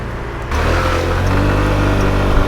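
Motorcycles pulling away at the end of a biker gang ride, engine rumble rising sharply after a quiet start and holding as a steady, loud drone with a faint rev near the end.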